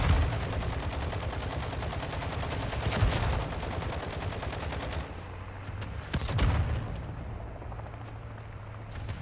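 Rapid bursts of RPK 7.62 light machine gun fire in an online shooter game, loud and dense, with a couple of sharper peaks and continuous gunfire clatter filling the scene.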